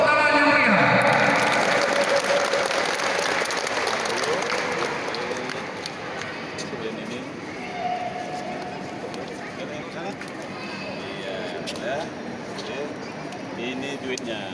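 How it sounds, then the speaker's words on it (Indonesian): Lively crowd applause at a national sports competition prize event in Aceh starts loud, then gradually thins, with crowd chatter and voices mixed into the noisy, open-air wash of clapping. "Tepuk tangan yang meriah."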